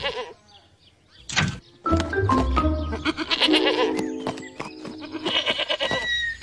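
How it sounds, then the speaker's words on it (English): A goat bleats several times among other activity in an animated delivery scene, with wavering calls at moderate loudness alongside a mechanical whirr and clatter, and no talk. "it's not every day I get to deliver a goat"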